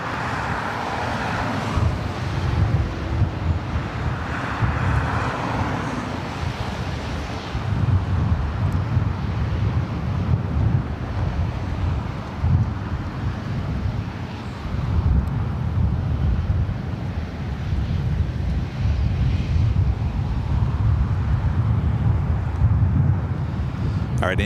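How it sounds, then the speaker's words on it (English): An Airbus A350-1000 lands on runway 25 left at LAX, a steady loud roar of jet engines and rushing air that holds throughout, buffeted by heavy wind noise on the microphone. "Captain Chris, flying on Flight 141, A350-1000, landing on the south side on 25 left"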